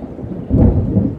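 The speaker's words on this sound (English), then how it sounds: "You hear the thunder out there. It's just a booming." Thunder from a passing storm rolls in partway through, a loud, deep, sustained boom swelling over a bed of steady rain and carrying on to the end.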